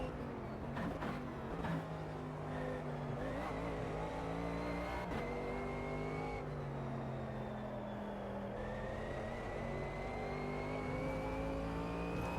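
Race cars in the sim game Automobilista 2, engines revving and shifting gears with rising whine and repeated upshifts, steady and fairly quiet, no talk.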